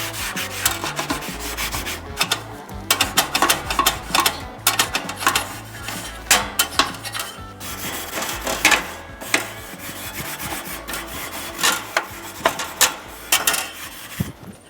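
A BBQ Daddy grill cleaner with a spinning handle scrubs a barbecue grill grate, giving continuous close, rough, rasping strokes with an uneven back-and-forth rhythm and occasional sharper scrapes.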